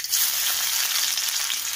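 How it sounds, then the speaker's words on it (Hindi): Finely chopped onion hitting hot oil in a pan for homemade chaat, a loud, bright, continuous sizzle that holds steady and close throughout, with no voices. "अब डालेंगे प्याज"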